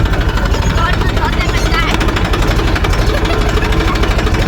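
A loaded tractor's engine idles steadily and loudly close by, with a rough, knocking low rumble and vibration throughout, while people talk over it.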